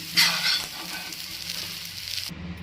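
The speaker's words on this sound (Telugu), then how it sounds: "అదే ప్యాన్లో కొద్దిగా ఆయిల్ వేసి టమాటా పండు మిర్చిని వేయించుకున్నాము" Tomato and red chillies frying in a little oil in a pan for a village-style okra and red chilli pounded chutney: a steady close sizzle with bright crackle, swelling early then holding even before dropping away.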